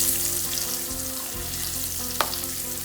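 Bay leaf, peppercorns, cinnamon, cloves and cardamom frying in hot oil for aloo dum curry, a loud continuous close sizzle with a sharp spatter near the end, no talking.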